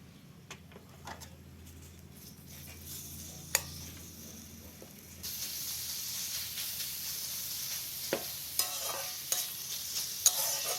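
Onions frying in oil, quiet stirring taps at first, then a sudden louder hiss as the onions hit the pan, followed by steady sizzling with occasional sharp spoon clicks.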